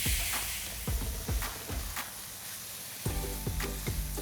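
Soya chunks, baby corn and bell pepper sizzling in a hot pan with oyster sauce, a steady close frying hiss broken by repeated scraping stir strokes of a spatula at a regular rhythm.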